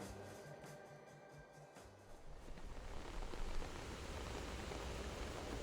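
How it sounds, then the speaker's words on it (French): Light rain falling on tent canvas during a mountain camp, a faint soft patter that starts quiet and thickens into a steady, dense hiss after a couple of seconds. "Bercé par le bruit léger de la pluie qui s'invite sur la toile"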